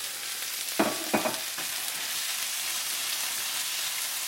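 Onions, ginger and garlic frying in a pan for a Chinese spicy beef with tofu dish, a steady close sizzle with a few brief scraping stirs early on, and no talk.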